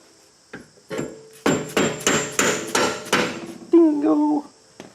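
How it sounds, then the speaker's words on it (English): A plastic hammer taps on Pontiac G8 BMR aftermarket suspension control arms, about eight sharp knocks in a quick, uneven rhythm, close and fairly loud, ending in a ringing metallic scrape. "plastic hammer works well too"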